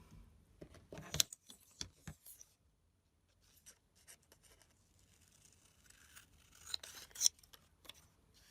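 Deckle-edge scissors snip through paper in short crisp cuts, a few quick clusters separated by quiet pauses, close and fairly soft with no talking.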